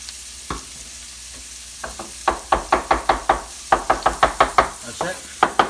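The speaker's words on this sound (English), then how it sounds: "then the basil I'm just going to chop it rough chop it" A knife rough-chops fresh basil on a cutting board in a home kitchen making meatballs: a few scattered taps, then quick runs of sharp, evenly spaced chops, loud and close.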